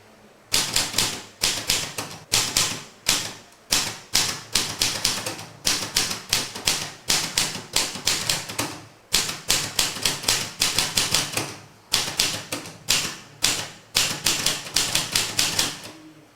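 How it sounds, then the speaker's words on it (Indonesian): Manual typewriter keys clack in quick irregular bursts, a loud close run of strikes broken by short pauses, with no voices over the typing. "Pak Marjono juga menggunakan mesin tek manual, celak-celok seperti itu"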